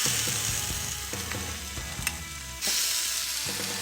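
Steady loud sizzling from skewers on a hot grill over medium heat, with occasional crackles and pops, a brief surge of hiss near the end.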